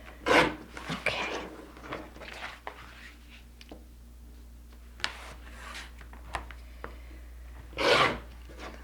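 Fabric strips being cut for a heart-shaped fabric chain: a few short, rasping cutting strokes, with one clear burst at the start and another near the end, separated by quieter rustling and handling.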